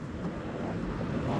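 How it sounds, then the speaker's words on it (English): Wind gusts across the microphone on a Blackpool seafront walk, a steady dense rumble of buffeting noise with no clear voices. "Oh, it's windy."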